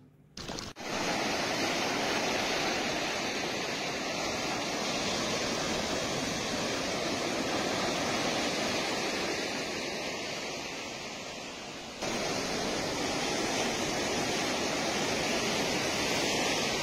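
Rough sea waves roar against the Odisha coast in Jagatsinghpur district, a steady, dense rushing wash of surf heard from nearby with no voices.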